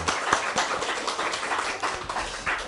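Welcoming applause from a church congregation greeting visiting members, a steady patter of hand claps filling the room at moderate loudness, with scattered sharper claps standing out.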